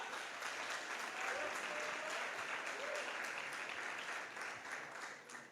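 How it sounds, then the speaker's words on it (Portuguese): Congregation applauding the Lord during a church service, a sustained, even wash of many hands clapping at moderate level, slightly distant and roomy, tapering at the end. "Você pode aplaudir ao Senhor?"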